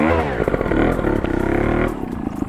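A trial motorcycle is pushed off and revved on an outdoor riding course, its engine rising in loud close bursts with clattering before it drops back to a lower idle.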